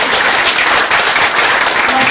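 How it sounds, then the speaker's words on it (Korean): An audience at a high school admissions briefing held in a hotel applauds, a loud dense burst of clapping heard alone. "아름다운 박수 주십시오."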